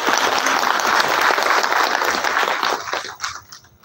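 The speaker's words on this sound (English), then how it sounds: "I would say a big applause to these students who have organized" An audience at a university talk applauds the student organizers, a dense burst of clapping that holds strong for a few seconds and then tapers off quickly.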